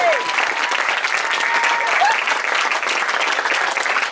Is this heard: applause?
yes